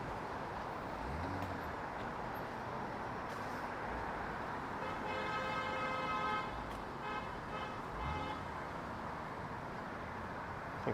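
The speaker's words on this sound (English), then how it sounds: "I think that guy's going to start honking jingle bells in a second." A car horn toots in street traffic in Toronto, with a steady honk sounding for a few seconds in the middle over a constant wash of road noise and passing vehicles.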